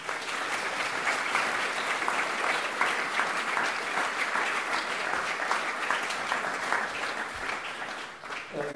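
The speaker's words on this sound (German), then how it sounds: "Nochmal bitte einen großen Applaus" Sustained loud audience applause fills the hall at a live evening event for a John Sinclair horror series, a steady, dense wash of clapping running throughout without break.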